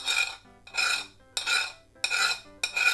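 A metal spoon scrapes and clinks against a bowl in five evenly spaced strokes while eel kabayaki sauce is poured over rice, close and fairly quiet, with no talking.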